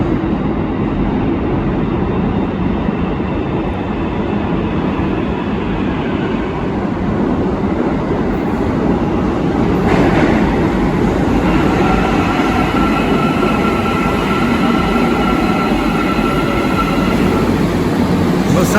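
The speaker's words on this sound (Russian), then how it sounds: "поезд сейчас прибывает на станцию" Almaty metro train pulling into an underground station, a loud steady rumble of wheels and motors filling the whole stretch, with a faint high whine rising toward the end.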